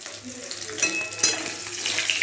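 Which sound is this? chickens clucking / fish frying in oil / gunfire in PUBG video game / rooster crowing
fish frying in oil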